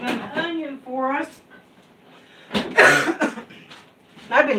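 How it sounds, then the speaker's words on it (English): A couple of harsh, forceful coughs break out near the middle, close and loud, with brief voiced sounds before them and another burst at the end. "I've been coughing this morning."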